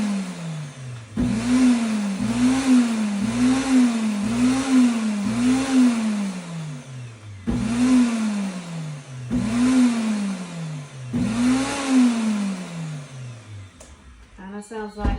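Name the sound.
blender pulsing oat bran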